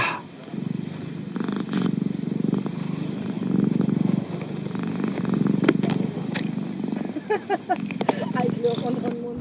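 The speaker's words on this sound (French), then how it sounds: "L'heure du doux bruit du ronronnement de Mia." Mia, a cat in a shared flat, purrs in a close, steady, low rumbling rhythm that continues throughout, with a few faint clicks and rustles near the end.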